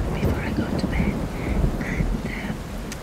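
Heavy rain pours steadily in New York, a dense continuous hiss with faint background sounds and no clear voices.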